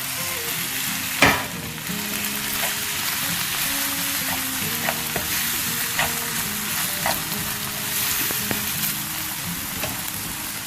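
Vegetables and noodles fry in a pan for spicy noodles, a steady close sizzle broken by occasional stirring scrapes and one sharp knock, with soft tonal music underneath.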